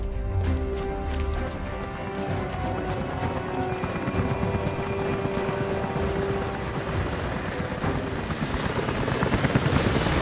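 Helicopters approaching in a Tomb Raider video game cutscene in the Geothermal Valley, with a rapid, steady rotor chop that thumps throughout and swells louder toward the end.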